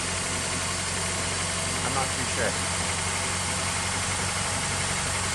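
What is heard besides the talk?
1999 Honda car engine running after sitting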